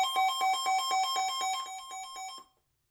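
A Sangean CL-100 weather radio sounds its alert tone at high volume, a loud, close string of rapid repeating electronic beeps that cuts off abruptly into silence.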